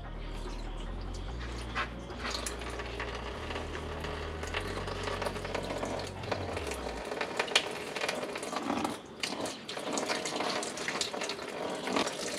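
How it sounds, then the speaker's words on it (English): Water draining from a bag inside a DIY IBC bait tank, a steady splashing trickle and flow heard close and continuous, with a low rumbling hum underneath during the first half. "now it is starting to drip out from the bag in here"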